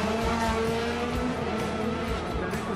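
A rally car doing donuts on smooth city tarmac in Athens at the Acropolis Rally, its engine roaring steadily with tire squeal and skidding throughout, loud and close.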